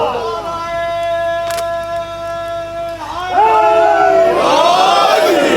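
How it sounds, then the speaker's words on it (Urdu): Large crowd at a religious gathering in Lahore chanting slogans in unison, loud sustained voices rising into a louder surge of shouting and cheering near the end. "یہ نعرے حضرت علامہ الحاج فاضل قوم علامہ رشید ترابی صاحب نے لگوائے ہیں"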